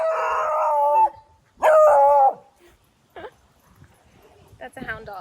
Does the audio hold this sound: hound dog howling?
yes